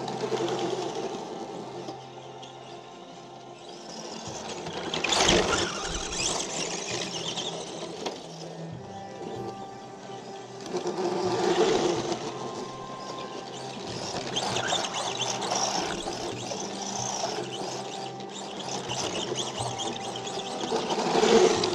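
A Losi V100S RC car runs a warm-up lap in snow, its electric motor giving a continuous buzzing whine that swells and fades as the car passes closer and farther away.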